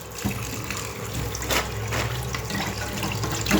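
A wok washed under a running kitchen tap, a steady close rush of water splashing against metal with small scrubbing surges throughout, no talk.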